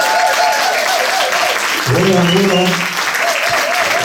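An audience at a Lovers Rock panel discussion claps steadily and loudly, while voices talk over the applause partway through.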